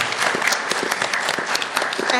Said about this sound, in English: let's give a round of applause to Claire as well